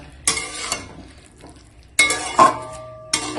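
A metal spoon clinks and scrapes in a pan while stirring cauliflower curry with chopped coriander, in three separate bursts of clatter over a soft sizzle, loud and close.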